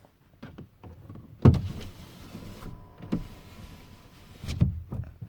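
A base-model Toyota Tacoma's power window motor hums steadily as the glass winds down, with nearby clicks and soft thumps from the switch and cabin around it. No one speaks.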